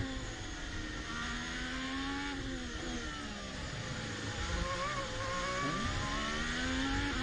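Carlos Sainz's Formula 1 car at Spanish Grand Prix practice in 2021 screams past with a continuous high engine whine, its pitch sweeping and shifting through the corners, loud and sustained with no talk.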